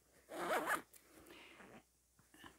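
A zipper on a small handmade fabric bag with handles and a front pocket being pulled open, one quick close rasp followed by fainter softer zipping, quiet overall with no talking.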